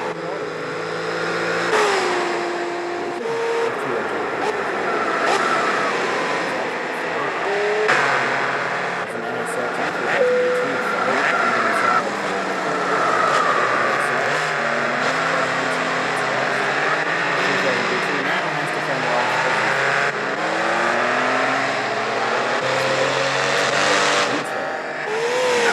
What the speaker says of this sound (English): Plucky little 197 horsepower V6 front-wheel drive coupe.